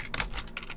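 Quick typing on a computer keyboard while entering a Minecraft command, giving a short run of crisp, close key clicks with no talking.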